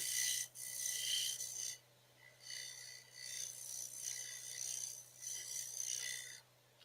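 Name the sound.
scraper tool on wood lathe turning wooden chuck jaws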